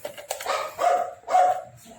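A pet dog barks indoors, three or four close, moderately loud barks in quick succession with no talking.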